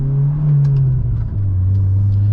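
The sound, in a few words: 2006 Acura RSX Type S with catback exhaust driving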